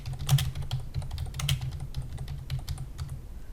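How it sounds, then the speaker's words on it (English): Someone types an email message on a computer keyboard, producing a brisk patter of close, crisp key clicks with a few sharper strokes, steady and unaccompanied by speech. "You can type everything you want inside the message."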